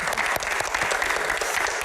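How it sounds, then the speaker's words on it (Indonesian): Brief, lively applause for a young deputy speaker at a Q&A event, many hands clapping close and crisp, with individual claps standing out in a quick, dense rhythm. "Tepuk tangan untuk Bang Akbar."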